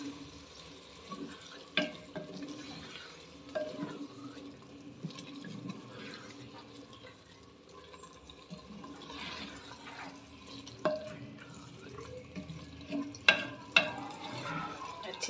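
Potatoes and spinach sizzle and crackle steadily as they stir-fry in a hot pan, with occasional scraping and clanking of a spoon stirring, continuous and close.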